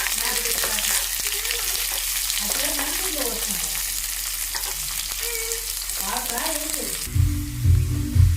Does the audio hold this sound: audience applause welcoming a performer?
no